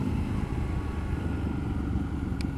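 Steady low exhaust rumble from a Triumph Scrambler 1200 XE motorcycle fitted with aero pipes, a continuous even idle-like drone, fairly close with no talk.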